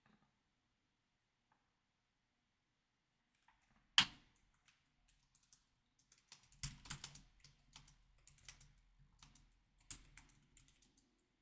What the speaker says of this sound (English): I'm typing in the chat right now